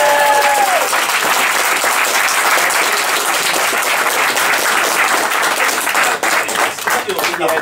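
An audience applauds a live singer after the performance in dense, loud clapping that runs steadily for several seconds and then thins out near the end, with a voice briefly over it at the start.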